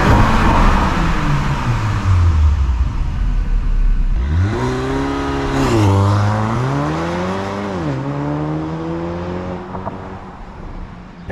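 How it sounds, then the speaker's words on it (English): A parked 2022 Porsche Macan base model revs hard toward its redline, the engine note climbing, falling and surging again in close, loud repeated bursts before settling back to idle. "you can actually rev it all the way to red line, even when you're parked"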